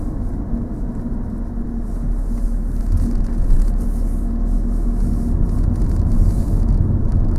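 A car's engine drones and rumbles low and steady as it drives through a crossroads, with constant road noise from inside the cabin and no voices.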